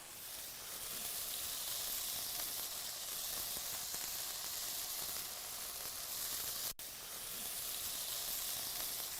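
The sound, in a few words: onions sizzling as they are added to a hot pan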